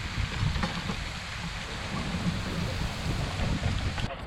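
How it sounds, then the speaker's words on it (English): Heavy summer squall rain near the Oregon Inlet on the Outer Banks, a steady dense patter and hiss with low rumbling wash underneath, continuous and fairly loud throughout. "Had a little summertime squall roll through on us, and we thought we were going to have to leave, but it was just heavy rain."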